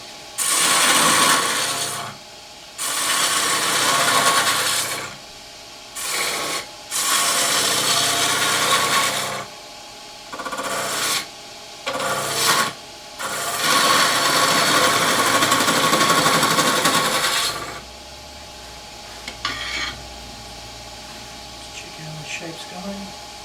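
A detail gouge shaping a Huon pine goblet on a wood lathe gives a steady rasping, scraping cut in repeated passes of a few seconds each, loud and close, with short pauses between passes.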